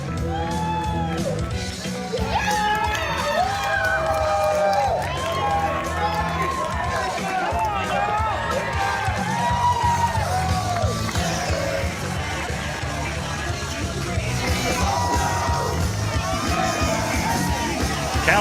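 A professional wrestling crowd full of kids cheers for wrestler Cal Hero in a loud, steady roar of shouts and whoops that runs without a break, with excited voices and high-pitched yells layered throughout.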